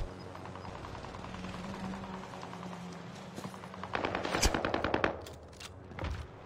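Squad gunfire in the Warzone video game: scattered shots give way to a dense, rapid automatic burst near the end, loud and close over a low engine-like drone.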